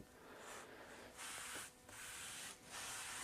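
A French polish pad loaded with pumice rubs over a vintage table top in several long strokes, a close, soft abrasive hiss that swells and breaks between passes.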